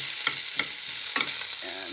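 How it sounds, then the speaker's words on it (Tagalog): Onion sautéing in a pan for a Filipino sayote and sardine dish, giving a steady sizzle with a few soft stirring scrapes and clicks, close and moderately loud, with no talking. "Medyo lalamtahin lang ng konti itong sibuyas para"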